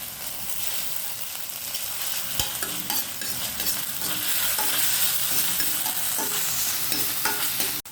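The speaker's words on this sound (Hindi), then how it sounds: "उसके बाद ये हरी मिर्च को थोड़ा भूनेंगे और उसमें ये अदरक डाल देंगे।" Green chillies and ginger frying in a little oil or ghee for veg fried momos, a close, continuous sizzle with repeated clicks and scrapes of a spoon stirring, ending in one sharp knock, with no talking.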